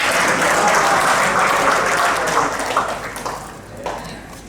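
An audience at a panel discussion in Semarang claps loudly and densely, a sustained burst of applause that gradually thins and fades out near the end.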